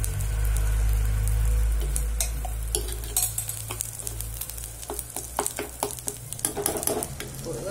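Coriander and mint thokku cooks in sesame oil on a low flame. A low hum and soft sizzle give way to a run of irregular scraping and clicking strokes as the mixture is stirred.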